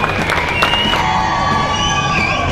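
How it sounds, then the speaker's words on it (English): Loud, steady cheering and whooping from a large crowd greeting the unveiling of a Ringbrothers 1969 Dodge Charger 'Defector' at the SEMA Show, with sharp shouts rising above the dense roar throughout. "So let's give them a round of applause again for this car."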